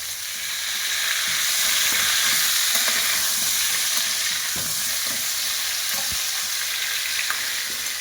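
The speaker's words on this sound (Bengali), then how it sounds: "আলুটাকে ভালোভাবে লাল লাল করে ভেজে নেব।" Potatoes frying in hot oil until reddish, a dense, steady sizzle and hiss close up, with occasional soft stirring knocks and no voices.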